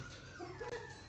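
A tiny newborn puppy, the last of the litter, bottle-fed at a bully dog kennel, gives a faint, brief whimper with a couple of soft, high yips in the middle of the moment.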